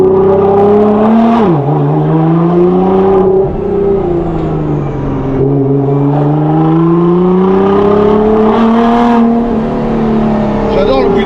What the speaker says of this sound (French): J'adore le bruit du turbo. Tu les entends bien.